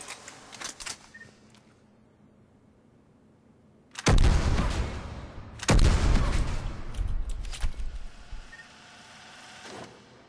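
The Graal Spike Thrower in Mass Effect 3 fires at long range in two heavy, booming blasts a couple of seconds apart, each with a long rumbling tail, preceded by faint clicks and handling noise.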